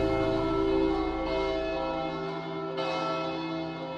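Bells ring in a scene from the anime Utena, a sustained metallic tone full of overtones. A second strike lands partway through and the ringing continues without any speech.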